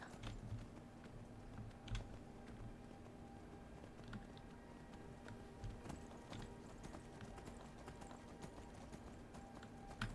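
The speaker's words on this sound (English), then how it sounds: "I'm gonna have to park our horse down here." Horse hooves clip-clop steadily through the Skyrim video game, a continuous rhythmic patter of game footsteps at moderate level with no talking.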